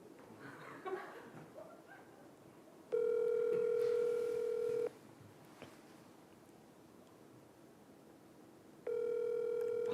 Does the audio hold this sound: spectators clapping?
no